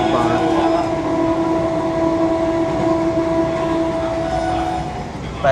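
The Mangala Lakshadweep Express rushes past during an overtake, a loud steady rumble of rail cars with a sustained horn tone held for several seconds, close by.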